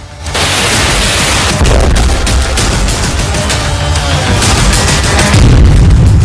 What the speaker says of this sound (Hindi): सामने ही धमाका, धुआं ही धुआं।